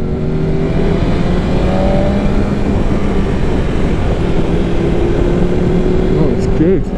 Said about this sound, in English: Engine braking.